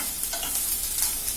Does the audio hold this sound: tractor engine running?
no